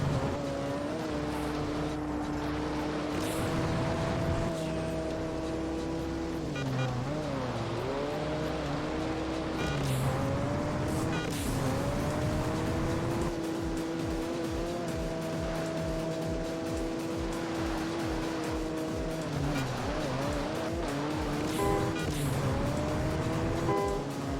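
Toyota Corolla engine droning and revving through gear shifts in the racing game Juiced, a steady loud tone rising and dropping repeatedly across the run, with occasional tire noise and no talking.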